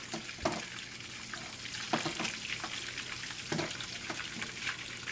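Eggs frying in grease in a pan, a steady soft bubbling and sizzle with scattered pops and crackles, fairly quiet and close, with no voices.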